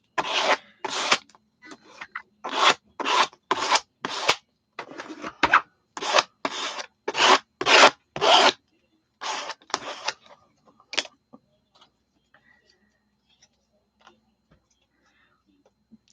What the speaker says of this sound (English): I'm going to get my scraper, my hotel key card or gift card, whatever this bad boy was.